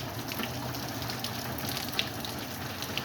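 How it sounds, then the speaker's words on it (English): Steady heavy rain pours during a thunderstorm at a house, puddles gathering outside, a dense continuous hiss with a few sharper drops spattering close by and no voices. "It's been raining for like what? About 10 minutes non-stop"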